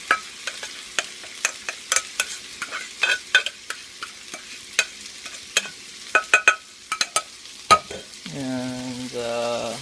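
An egg and leftover-rice mixture for fried rice hits a pan amid a long run of sharp, irregular utensil clacks and scrapes, then settles into a rising sizzle near the end.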